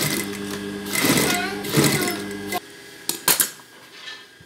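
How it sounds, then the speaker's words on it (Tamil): An electric sewing machine stitches an elastic fabric hair band at home, running in two short loud whirring bursts, then stopping with a few sharp mechanical clacks close by. "நான் மிஷினில் தான் தையல் போட போகிறேன்."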